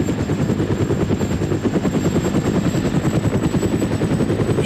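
A loud, steady helicopter rotor thump fills the whole stretch in the video game ArmA Cold War Assault, a constant chopping drone with no voices over it.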